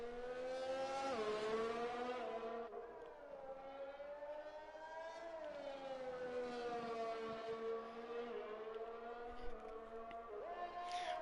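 F1 race car engine in a racing video game, on a hot lap around the Hungary circuit: a continuous high-pitched, harmonic-rich whine that rises and falls with throttle and gear changes, close and loud.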